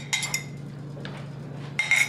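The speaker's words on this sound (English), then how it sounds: "So we're going to slightly beat those just with a fork" A fork beating eggs in a bowl for pizza rustica in a home kitchen, heard as quick metallic clinking in three short flurries, close and fairly loud, with no talking.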